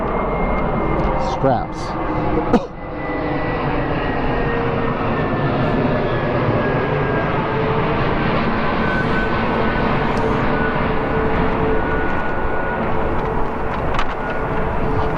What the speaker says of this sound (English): Let me wait till this jet goes by